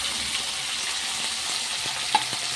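Sliced onion goes into a hot pan with potatoes, tomato and black cumin seeds, giving a steady, dense sizzle of frying throughout, with one small sharp pop near the end and no talking.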